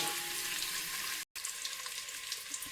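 Eggs sizzle steadily in hot oil for egg biryani, a close, continuous hiss broken once by a brief moment of silence.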